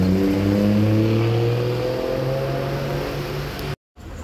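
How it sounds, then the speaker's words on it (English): A Porsche 911 GTS drives past on a street at night; its engine hums in a strong, steady tone that slides lower and fades as the car moves off, ending in a brief cut. "Porsche 911 GTS."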